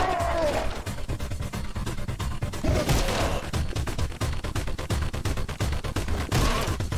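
Rapid gunfire and explosions in the first-person action game Anger Foot, dense bursts of sharp shots and crashes in a continuous loud barrage, with a voice talking over it at times.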